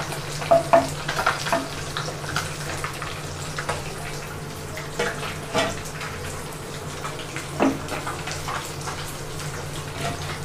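Fish frying in a pan with spices, a steady close sizzle with occasional louder crackles and stirring scrapes, continuous throughout with no talking.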